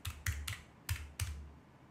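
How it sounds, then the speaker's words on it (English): The mechanical buttons of a LOCOCK digital calculator are pressed five times in uneven succession. Each press is a crisp, close clack with a soft thump, recorded quietly with no voices. "I just wanted to get a sense of what did it feel like when you push these buttons"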